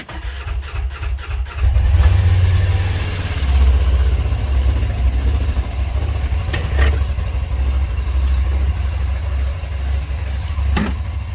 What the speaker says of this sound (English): I'm gonna start up this side by side, guys, real quick to get the engine warmed up.